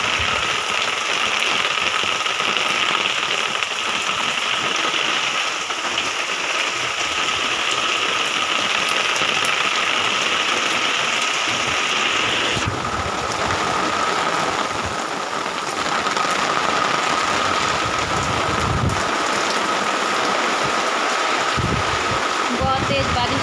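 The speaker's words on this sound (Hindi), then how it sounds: "बहुत तेज़ बारिश हो रही है।" Heavy monsoon rain pours down around a house, a loud, constant rushing hiss with a voice faintly present at times beneath the downpour.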